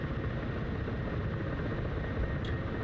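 Ka-50 Black Shark 2 helicopter in a flight simulator game, hovering and descending with a steady, dense rotor and engine roar that runs unbroken throughout.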